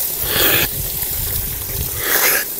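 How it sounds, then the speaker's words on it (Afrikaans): Water streams steadily out of a borehole on a farm, a close, continuous rushing with brief brighter gushes at the start and near the end. "Kyk hoe stroom die water hier uit."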